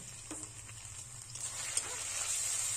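A paste of ginger, garlic and cumin with turmeric and salt sizzles softly in a hot pan as it is stirred and fried, a faint steady hiss with a few light scrapes.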